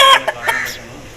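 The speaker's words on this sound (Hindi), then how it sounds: "ये मुर्गा है, लखा मुश्का इसका कलर है।" Aseel rooster of lakha mushka colour giving a couple of brief, close clucks that fade quickly into quiet.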